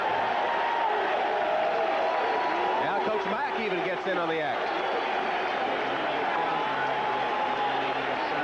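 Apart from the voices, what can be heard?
football stadium crowd cheering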